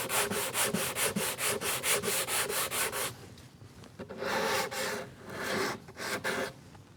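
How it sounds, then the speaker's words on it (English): A sanding block rubbed over wood to clean burn marks and fuzz from a router table build, first in quick regular back-and-forth strokes for three seconds, then a pause and a few slower, irregular strokes, close and clear. "you can just come back with a sanding block and take care of the burn"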